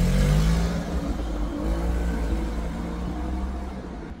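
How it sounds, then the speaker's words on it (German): A car engine revs loudly at a roundabout, a strong rumbling roar that is heaviest at the start and slowly fades as the vehicle moves off, heard with no talk. "Oh, das Auto klingt nicht gut."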